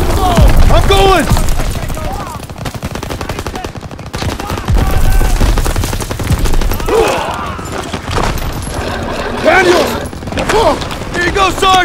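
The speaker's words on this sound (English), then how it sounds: "Covering fire!" Rapid machine-gun bursts and scattered rifle shots crackle through a World War II battle in Call of Duty: World War II, with shouted voices over the firefight and dense impacts throughout.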